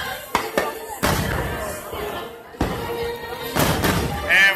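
Fireworks at Magic Kingdom on the Fourth of July, with several loud booming bursts and crackles at irregular intervals. A crowd murmurs and people talk throughout.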